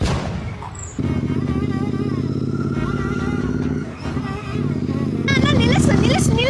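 Motorcycle engine running at speed with a steady roar and a rising rev toward the end, close by, with voices talking over it.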